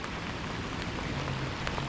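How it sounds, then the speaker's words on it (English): Steady rain falls during a fishing outing, a dense continuous hiss of drops with no voices over it. "Fortunately, this rain is picking up."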